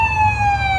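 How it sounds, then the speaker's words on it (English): Ambulance siren outside a McDonald's, a steady wailing tone with strong harmonics holding loud and close, over low road rumble from the vehicle. "It's a ambulance."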